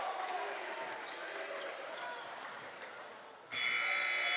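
Basketball game buzzer sounding at the end of the first quarter in a varsity high school gym, a sudden loud sustained electronic tone cutting in after a few seconds of crowd noise and play-by-play commentary.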